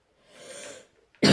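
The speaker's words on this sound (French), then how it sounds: "je tousse un peu" A single short, harsh cough bursts out near the end, loud and close, after a quiet stretch of breathy background noise.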